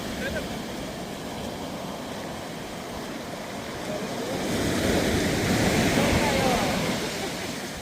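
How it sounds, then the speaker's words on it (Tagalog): Ocean surf rolls in off the Santa Cruz coast in California during a fishing outing, a continuous roar of waves with wind that swells noticeably louder midway through. "lumalakas yung alon."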